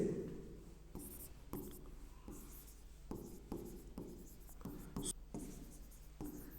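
Marker strokes on a board during a classroom-style lesson, a series of short squeaky scratches at irregular intervals, close but quiet, with faint speech in the background.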